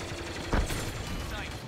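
Blaster fire in the Star Wars Battlefront 2 video game, in a match featuring the Millennium Falcon: one short, punchy shot bursts out over a steady bed of game noise.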